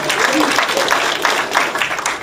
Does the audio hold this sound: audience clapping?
yes